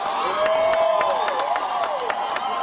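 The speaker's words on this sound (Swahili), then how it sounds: "Makofi wananchi." A crowd at an outdoor political rally with the president applauds and cheers, claps and whoops blending into a steady roar, with a whistle-like tone gliding through it.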